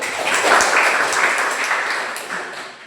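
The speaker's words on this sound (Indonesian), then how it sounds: "Aplaus untuk Kevin." Applause in a classroom for a student named Kevin, a steady wash of many hands clapping at close range, loud and sustained with no voices over it.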